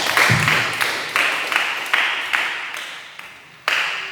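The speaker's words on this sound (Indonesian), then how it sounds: "Berikan tepuk tangan buat Minga." Hands clapping at a Christian youth catechism gathering, heard as a series of distinct loud claps in a slow, fairly regular rhythm, close by and echoing in a room, with no talking over them.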